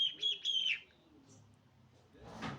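A budgerigar gives a few bright, close chirps in quick succession, then quiet, followed by a faint rustle.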